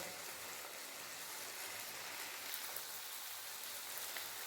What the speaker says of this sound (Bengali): এরপরে দিয়ে দেবো জল কম করে জল দিলাম বেশি জল দিলাম না